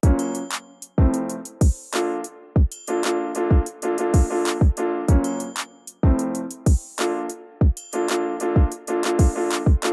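A full beat plays with all its drum parts together: deep kicks, crisp hats and snares over sustained melodic chords, dense and steady with no voices.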